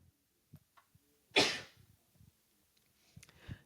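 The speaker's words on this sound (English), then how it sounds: "I have to sneeze" A single sharp sneeze from a person bursts out amid quiet breaths and small mouth sounds, close and loud against an otherwise hushed room.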